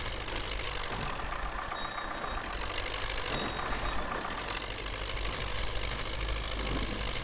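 A 1953 tractor engine from the Spintires: Mudrunner 19RUS mod, running as a continuous loud rumbling drone with a knocking undertone and no break from start to end.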